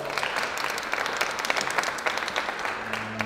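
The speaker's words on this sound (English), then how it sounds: "Give yourself a round of applause." Company employees applauding at a corporate gathering, a brief burst of steady clapping from a crowd heard at moderate distance, fairly soft overall.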